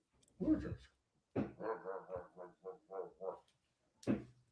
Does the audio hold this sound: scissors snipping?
no